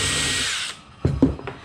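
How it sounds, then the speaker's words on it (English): A power drill bores into a piece of scrap wood: a steady high whine that cuts off, followed by a few short bursts and clunks as the bit stops and the drill is handled. "And we'll go ahead and drill right there."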